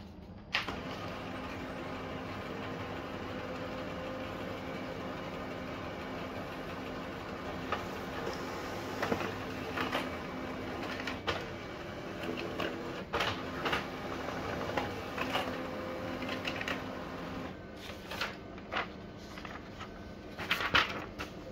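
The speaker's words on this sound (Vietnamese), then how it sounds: "Rồi bây giờ mình sẽ bấm vào print." An office printer prints an A4 page, with a long stretch of steady mechanical whirring and rolling, broken by clicks and clunks of paper feeding that grow busier toward the end.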